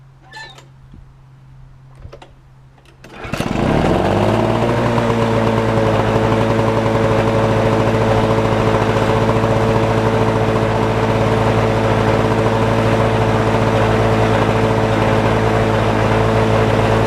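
A lawnmower engine catches after a few seconds of quiet and then runs loud and steady, with a constant droning hum that holds to the end.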